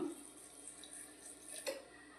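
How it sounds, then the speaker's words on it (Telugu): Water is poured lightly into a vessel of phalsa berries, a quiet, steady trickle that runs alone for a couple of seconds. "దీంట్లో కొంచెం లైట్గా వాటర్ పోస్తున్నాను"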